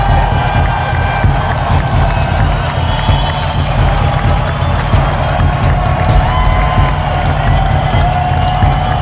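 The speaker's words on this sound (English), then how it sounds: "The crowd's going wild here, folks." A crowd cheers loudly and without pause at a Kenya versus Ethiopia Coffee Fighting League bout, a mock boxing-style match. Dense shouting, whoops and some clapping merge into a steady roar for the whole stretch.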